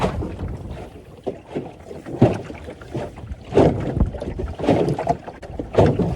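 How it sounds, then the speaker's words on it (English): A small sailing dinghy with a homemade rig moving on open water, gusty wind buffeting the microphone and irregular water sloshes and hull slaps, near and fairly loud, with no talk. "Looks like I built the sailing rig for my dinghy."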